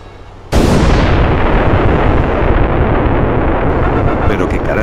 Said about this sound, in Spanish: Esa explosión proviene del barrio